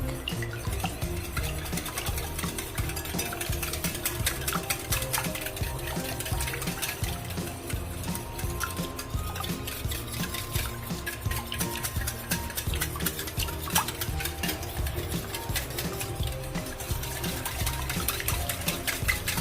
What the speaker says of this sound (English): Whisk it well